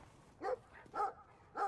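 Three barks from a dog in the video game Brothers: A Tale of Two Sons, evenly spaced and fairly faint, each short and gruff over a quiet background.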